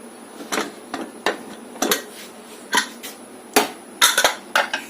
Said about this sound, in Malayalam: കുക്കറിന്റെ ആവി പോയി നമുക്കിനി ഒന്ന് തുറന്ന് നോക്കാം.